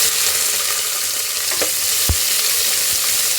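Mustard seeds, onion and green chilli frying in hot oil: a steady, close sizzle with faint crackles and one sharp pop, no talk.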